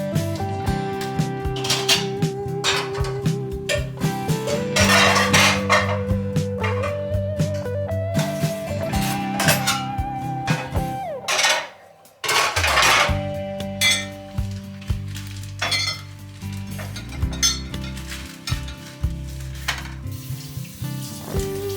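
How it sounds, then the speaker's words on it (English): Clean dishes being put away in a home kitchen, with frequent close clinks of plates, glasses and cutlery and clattering as items are stacked, continuing steadily with a brief pause midway. "these are all clean dishes. These are just like the ones I washed by hand. So I need to put all those away."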